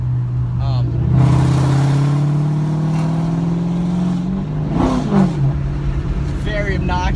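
A 2007 Ford Mustang GT with a Pypes off-road X-pipe and muffler delete revs up and then settles, its loud, deep exhaust note swelling and falling close by, with a voice audible over it.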